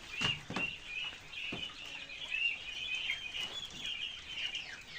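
Farm birds being given water and feed: a steady chorus of nearby clucking and high chirping, with a few soft knocks, no talking.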